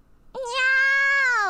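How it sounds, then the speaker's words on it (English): A single bright meow from a cat hidden in a box in the Nekopara video game begins sharply and holds steady, a close, isolated sound effect. "The box is meowing."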